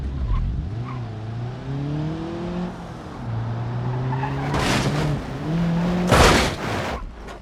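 A car in the Roblox game Car Crusher drives with a rising and falling engine whine, then tires screech in sharp skids, loud and close with no talking.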